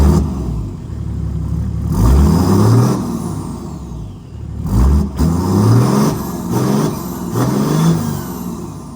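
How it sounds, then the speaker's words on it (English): Land Cruiser with a swapped 1HD-FTE turbo diesel engine breathing through a full 3-inch exhaust with a single resonator, revving repeatedly in rising and falling bursts, loud and close, no talking. "I bought a full 3-inch kit with a single resonator, everything bolted up easily, and I think it sounds fantastic."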